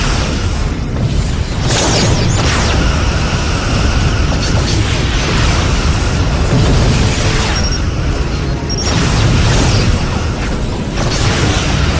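A Borg vessel exploding in the Star Trek Legacy space combat game, heard as loud, dense booming blasts and crashing bursts over a continuous roar, with sharp electronic tones cutting through.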